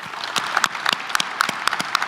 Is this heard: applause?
yes